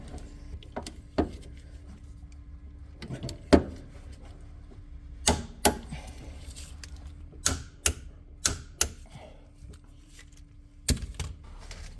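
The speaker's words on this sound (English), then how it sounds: "take the torque wrench and you tighten these up to 66 foot-pounds" A torque wrench tightens Torx head bolts on a Corvette's new rear wheel bearing to 66 foot-pounds, with a series of sharp, separate clicks spaced irregularly over quiet background, close by.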